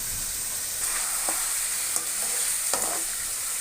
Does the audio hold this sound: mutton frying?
yes